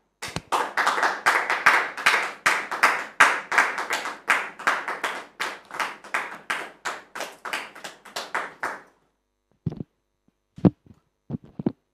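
Studio audience applause on a French television talk show, a dense burst of rhythmic clapping lasting several seconds before breaking off into a few scattered final claps.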